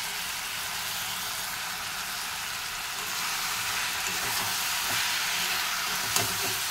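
Turmeric, chilli and cumin powder sizzling in hot oil with chopped tomato and whole garlic, a close, steady broadband hiss that swells slightly partway through, with no voices.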